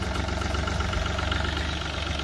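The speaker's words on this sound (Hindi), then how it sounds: "ये देखो भाई फोर्स वालों का विमान ट्रैक्टर है भाई ये" A Force mini tractor engine idles steadily nearby, a continuous low diesel rumble with an even throbbing pulse and no voices over it.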